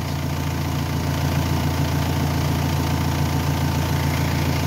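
A car engine idles steadily with the alternator terminal disconnected, a loud, even low rumble with a regular throbbing pulse that runs unbroken and close by, with no talking.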